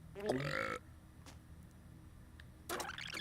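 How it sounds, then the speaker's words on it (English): In the LittleBigPlanet game, a short burp and a gulp sound effect play overlapping, followed by quiet and then another brief burst of the effect. "I'm gonna have both the burp and the gulp."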